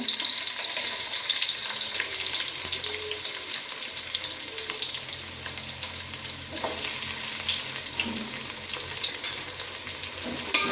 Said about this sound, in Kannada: ಎಣ್ಣೆ ಸ್ವಲ್ಪ ಕಾದ ಮೇಲೆ ಎರಡು ಕಟ್ಟು ಮಾಡಿದ್ದ ಈರುಳ್ಳಿ ಹಾಕುತ್ತಿದ್ದೇನೆ